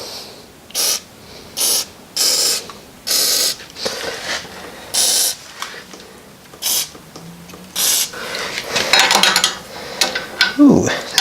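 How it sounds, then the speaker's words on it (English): Short bursts of a ratchet wrench backing out old bolts on a 401 Nailhead engine. The bursts come in an even series of separate clicks, then give way to louder clanking and metal handling near the end. "We just got to get these 6 bolts backed out of here."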